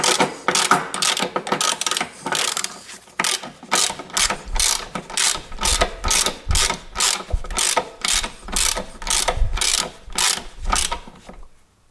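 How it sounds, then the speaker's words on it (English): A 10mm socket on a long bar ratchet loosening a bolt during a front ABS sensor replacement: close, rapid ratcheting clicks in repeated bursts with short pauses between strokes. "here is my 10mm socket and longer bar, and then I open that"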